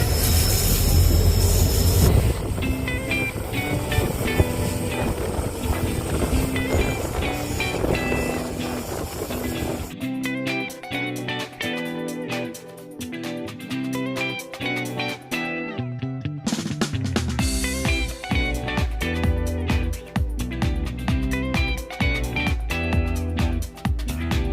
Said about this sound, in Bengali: ট্রেনটি এখন একটু পিছিয়ে গিয়ে লাটাগুড়ি লাইনটি ধরছে।